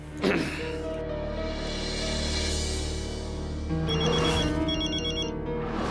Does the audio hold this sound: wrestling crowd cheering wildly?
no